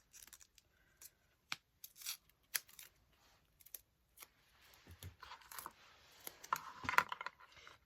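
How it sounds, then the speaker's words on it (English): Scissors snip through card stock for a shaker card in a quiet room, a series of separate sharp cuts with rustling of the paper and a few faint handling clicks in between. "What I do is I just cut a piece of this one off."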